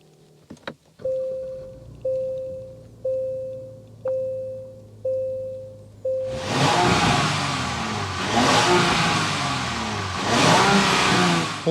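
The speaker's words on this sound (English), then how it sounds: "This is the twin turbo V6, so we need to go inside, start it up so you can hear that exhaust note." Twin-turbo V6 of a 2024 Genesis GV70 3.5T: a series of evenly spaced chimes, then the engine fires with a loud bark and settles into a rough idle with a couple of throttle blips, swelling and easing.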